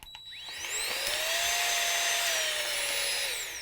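A pocket-sized air pump weighing 3.5 ounces whirs loud and steady for several seconds as it sucks the air out of a bag, its high motor whine rising slightly in pitch midway and holding until the end.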